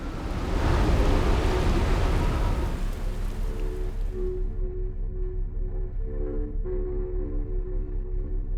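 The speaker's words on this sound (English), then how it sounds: "It sounds like we have a storm incoming, right?" In the Outer Wilds video game, a storm on Giant's Deep begins as a loud, broad rumble of rain and thunder. After a few seconds it gives way to a steady low drone with faint tonal hums.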